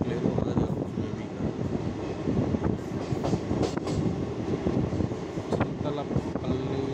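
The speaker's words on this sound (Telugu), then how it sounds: "ఇక్కడ ట్రైన్ ఆగడానికి లేదు, ఆగదు మేబీ." Express train running through Chintalapalli railway station without stopping, a loud, continuous rumble and rattle of wagons with rhythmic clicks from the rails, and voices murmuring underneath.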